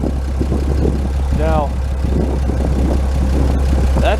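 A small, undercarbureted engine on a Hydravac idles with a steady low hum throughout, while a person talks over it.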